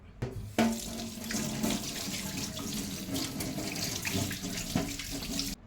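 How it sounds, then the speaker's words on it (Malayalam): Running tap water splashing into a sink while hands are rinsed clean of coffee powder, a steady close rushing flow with small shifts as the hands move under the stream. "എന്നിട്ട് അങ്ങ് വെള്ളത്തിൽ കഴുകിക്കളയാം"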